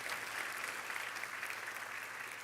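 Graduation ceremony audience applauding, a soft, distant-sounding wash of many hands clapping, steady and even across the whole moment with no voices.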